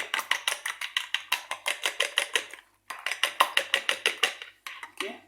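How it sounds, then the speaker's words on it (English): Three eggs whisked in a bowl for carrot cake, a fast steady rhythm of clicking whisk strokes against the bowl, close and clear, with a brief pause midway and a few slower taps at the end. "I had 3 eggs, which I'll just mix together now."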